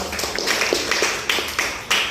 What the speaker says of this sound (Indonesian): Oke, beri tepuk tangan yang meriah kepada tim Malaysia.